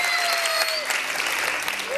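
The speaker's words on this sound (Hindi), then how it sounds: "तो ये तालियां जरूर होनी चाहिए" A studio audience at a televised iftar game show claps in a steady, lively burst that fills the whole clip, with a bright sustained tone sounding under the applause.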